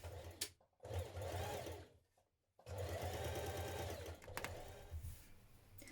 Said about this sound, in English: now we're going to stitch around this marking that we've just created with a small stitch length